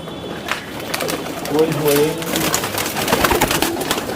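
High-flyer pigeons from Allahabad coo softly amid a busy, noisy background with rustling and clatter, the low throaty calls rising briefly in the middle.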